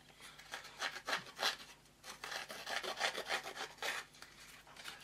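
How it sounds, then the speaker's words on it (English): A distress edge tool with bladed notches is drawn along the edge of a piece of cardstock, making repeated dry rasping scrapes in an uneven rhythm, close and fairly quiet. "You just pop your card in to one of the grooves and then just draw it along"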